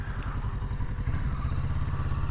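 Engine of a 2022 Kawasaki Z650 RS motorcycle under engine braking, a steady low pulsing rumble with fine mechanical clatter, close and continuous throughout.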